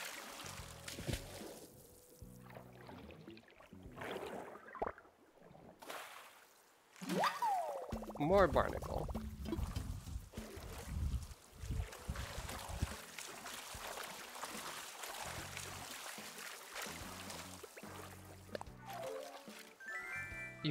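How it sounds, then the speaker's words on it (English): Swimming in the ocean in the game Animal Crossing New Horizons brings a loud, continuous watery splashing and churning. It runs under a person talking, with a brief chime partway through. "The swimming noise is a little loud."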